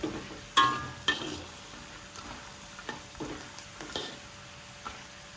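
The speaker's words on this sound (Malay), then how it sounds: "Kacang ni kalau time goreng kita kena sentiasa kacau dia supaya dia tak hangus." Oil sizzles softly in a pan of frying peanuts while a utensil scrapes and stirs, with a few light clinks and taps spread across the stretch.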